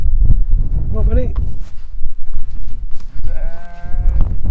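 Sheep bleat on a hillside along the Pennine Way near Horton in Ribblesdale, with two short wavering calls, one close and one further off, over wind, footsteps and someone talking.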